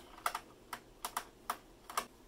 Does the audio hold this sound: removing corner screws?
yes